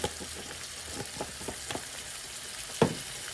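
Garlic added to ground beef frying in a pan for stroganoff, a soft continuous sizzle with scattered crackles and pops and one sharper clatter near the end, close and fairly quiet.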